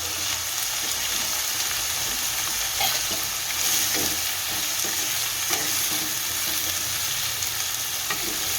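Potatoes stir-fry in a pan for upma, giving a steady, close sizzle broken by light scraping and stirring knocks that runs without pause and with no voices.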